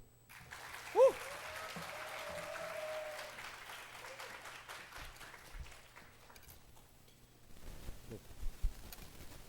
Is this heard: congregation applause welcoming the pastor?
yes